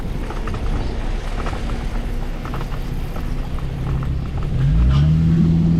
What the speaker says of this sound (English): The amount of cars out has definitely picked up.